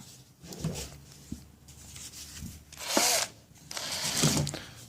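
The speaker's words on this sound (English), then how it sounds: "I get my cheap drill," A cheap handheld power drill boring into a shotgun shell, with short whirring and grinding bursts separated by pauses and handling clatter, close up.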